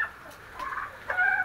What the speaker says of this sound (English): the smaller chicken tractor out there, which is our bantams or bannies